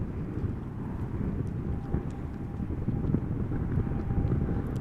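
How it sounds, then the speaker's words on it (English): An Embraer 190 airliner arriving from Berlin lands at Amsterdam Schiphol in a crosswind. A steady low engine rumble mixes with gusty wind buffeting on the microphone, holding fairly loud and even throughout, with no voices. "First up, Embraer 190 arriving from Berlin"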